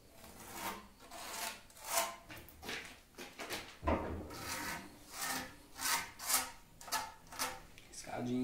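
A marking line is scribed on wood for an X-leg build, producing a close, steady run of rhythmic scratchy rubbing strokes.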